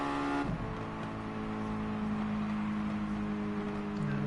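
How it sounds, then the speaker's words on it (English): Race cars on a circuit during an FIA Nations warm-up race, a steady loud engine drone with a sharp pitch drop just after the start as a car passes, then a sustained lower hum. "Let's have a look at Autista and Grove passing the finish line shortly."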